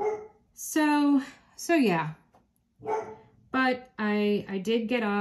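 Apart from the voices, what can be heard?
dog barking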